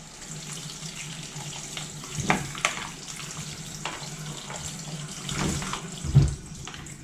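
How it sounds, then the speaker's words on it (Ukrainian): Rice in a colander being rinsed under a cold kitchen tap, a steady hiss of running water with a few louder splashes and knocks, no voices. "і промиваю холодною водою."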